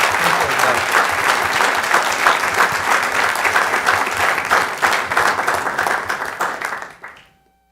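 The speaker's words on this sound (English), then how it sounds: "Let's give him a round of applause." Indoor audience at a city council meeting in North Augusta, South Carolina, gives steady, dense applause for a retiring employee, clapping loud and sustained for about seven seconds before tapering off abruptly.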